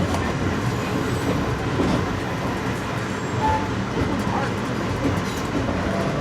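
Amtrak passenger train of two locomotives and nine passenger cars on the Northeast Corridor, heard from aboard as a steady loud rumble with rail clatter and faint wheel squeal throughout.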